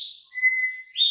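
A captive songbird sings a short phrase of clear, high whistled notes, close and fairly loud, with no voices.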